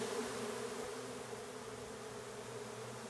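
Honeybees swarming from a hive, a dense, steady buzz of many insects close by, continuous and even throughout with no talk.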